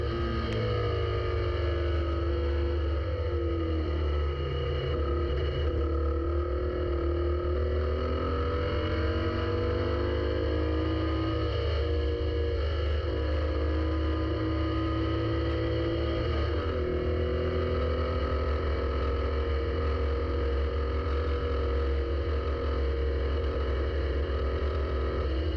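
A race car laps Snetterton circuit on a dry July day, its engine droning steadily near the microphone with a sustained high whine that shifts pitch as the revs change, with no voices.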